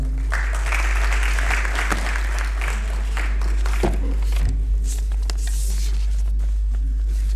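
Audience clapping at a Lions club get-together in Gujranwala, a steady wash of applause across the clip over a constant low hum, moderately loud, without speech.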